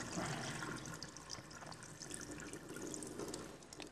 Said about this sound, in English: we're going to dump this liquid down the drain